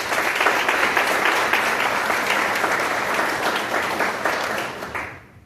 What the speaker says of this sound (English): Please join in giving them a big round of applause.